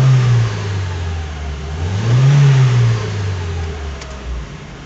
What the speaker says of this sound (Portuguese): Aí o carro funcionando aí perfeitamente.